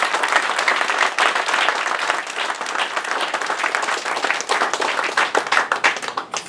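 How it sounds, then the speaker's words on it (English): A church congregation breaks into loud, sustained applause, dense clapping from many hands filling the room from start to finish. "Go ahead and give Daddy a clap."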